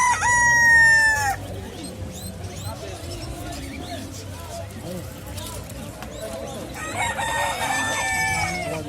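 Chickens at a bird market: a rooster crows loudly at the start and again near the end, with clucking and market bustle in between and people talking throughout.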